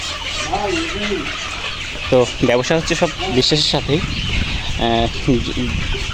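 Pullet layer hens on a farm in Kushtia cluck steadily in the background while someone talks over them continuously.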